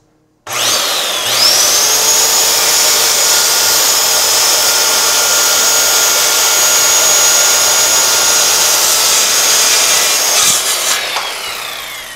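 Power saw blade cutting a luxury vinyl plank, finished edge down: a loud, steady high-pitched whine held for about ten seconds, close by, ending as the blade spins down.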